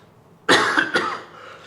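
A man on a podcast recording coughs twice in quick succession, loud and close to the microphone, the harsh bursts fading into a quiet room.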